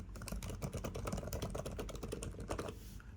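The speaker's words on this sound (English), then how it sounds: "Now the typing experience is also very nice. It does have a very clicky sound" Steady, fast clicky typing on the keyboard of a Microsoft Surface 3 laptop, a dense run of close, crisp key presses that continues with no pauses and no voices.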